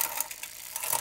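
A Shimano rear derailleur on a carbon racing bicycle shifts up, giving a quick, close freewheel ratchet whir with a couple of light clicks, fairly quiet and alone.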